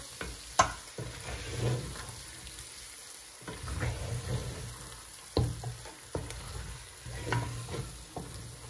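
A spoon stirs Mombasa pilau, a Kenyan Swahili spiced rice dish with bone-in meat, in a cooking pot, giving soft scraping strokes and clinks at an irregular pace over a low sizzle, close by and fairly quiet.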